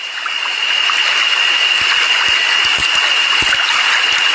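A wide river running over flat ground through a forest makes a steady, close rushing wash that never lets up, with a thin high tone and a few soft low knocks scattered over it, and no voices.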